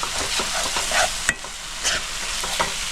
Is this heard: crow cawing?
no